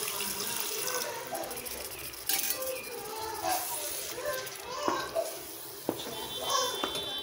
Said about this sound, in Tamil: இப்போ இதில் கொஞ்சமாக தண்ணி ஊற்றலாம்